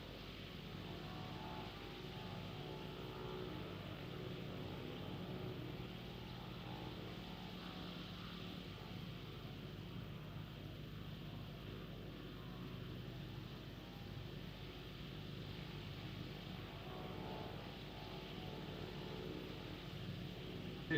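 A Vilga light aircraft in a flight simulator game gives a steady, continuous propeller engine drone that stays low and even throughout, with no voices over it.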